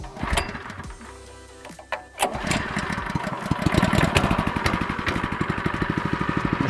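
Groundsman aerator with castor wheel attachment starting up: a brief pull and cough, then the small engine catches and settles into a steady, rapid mechanical clatter of the aerating action, close and fairly loud, with no talk.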